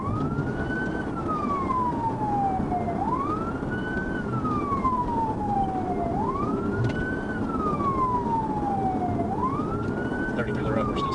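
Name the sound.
police car siren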